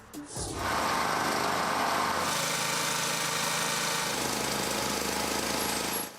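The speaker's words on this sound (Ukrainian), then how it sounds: "підприємці знову вимушені виставляти генератори, аби тільки бізнес не простоював" A loud generator outside a business drones steadily outdoors with a rough, vibrating mechanical hum that runs continuously without letting up.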